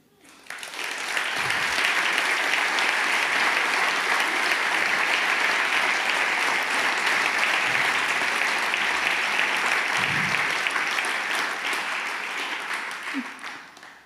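An indoor audience at an awards ceremony breaks into sustained applause, a dense, steady roar of clapping that rises quickly, holds for over ten seconds and fades.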